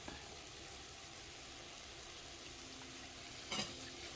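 Spaghetti and beef are stirred with a fork in a pan over medium heat. A faint, steady sizzle runs throughout, with a brief clink of utensil on pan near the end.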